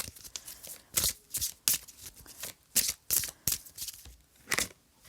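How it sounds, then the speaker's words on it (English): Oracle cards are shuffled in a series of quick, crisp riffling bursts, close and fairly quiet, with no talking. "I planned on shuffling the angel answers on camera"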